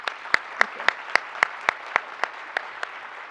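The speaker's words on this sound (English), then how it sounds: "I'd ask for that you join me in another round of applause for this panel." An audience at a county housing forum claps for a panel, a brief run of evenly spaced, crisp claps that stand out over a soft room background.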